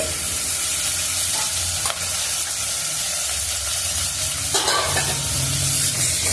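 Mutton keema drops into a hot pan and sizzles loudly and continuously while a spoon scrapes and stirs through it, with a few sharper clinks, close up and without talk.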